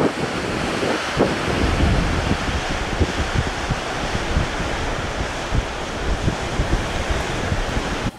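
Waterfalls near a hotel in Iceland roar as a dense, constant broadband rush heard outdoors, mixed with buffeting wind on the microphone and no talk.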